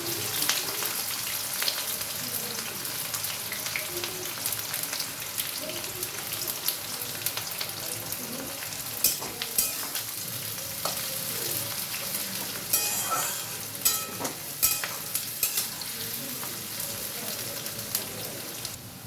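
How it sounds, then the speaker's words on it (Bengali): Onions frying in oil in a pan with cardamom, cloves, cinnamon, a dried red chilli and bay leaves, a constant close hissing sizzle dotted with sharp spitting pops and occasional stirring scrapes. "এবার দিচ্ছি পেঁয়াজগুলো আমি লাল লাল করে ভেজে নেব।"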